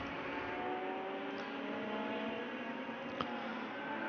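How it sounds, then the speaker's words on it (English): Radical Cup race cars at Road America drone through the circuit, engine notes sliding up and down as several cars run together at a moderate distance. "that is the Michelob Ultra car of Matt Roma closing in"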